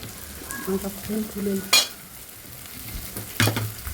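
Edible gum (dink) sizzles and puffs in hot ghee while being made into methi and dink ladoo, with a steady frying crackle, soft stirring and two sharper bursts of spitting near the pan.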